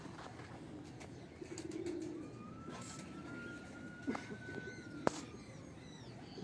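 Don-breed pigeons coo in low murmuring phrases amid other birds on a rooftop loft, with a long thin tonal whistle and a few sharp chirps cutting through a moderately noisy background.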